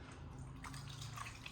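Water poured into a cooking pot of seasoned goat head meat for an African sauced goat dish, a steady close splashing pour lasting the whole moment with no talking.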